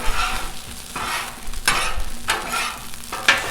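Spanish omelette ingredients sizzle on a Blackstone griddle while being tossed with a spatula, a steady frying hiss broken by several scraping, clattering stirs.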